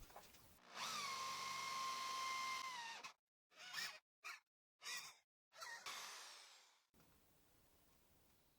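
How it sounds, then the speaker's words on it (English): A drill with a 20 mm Forstner bit bores a shallow hole into a wooden piece, one long whining run followed by several short bursts of drilling separated by silences, close and clear with no talk. "I will drill with an approximate depth of 10 millimeters"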